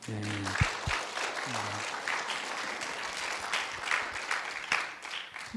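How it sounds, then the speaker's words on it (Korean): A congregation at a Christmas Sunday church service claps in steady, sustained applause lasting several seconds, with a brief voice at the start. "우리 전도사님을 위해서 한번 격려의 박수."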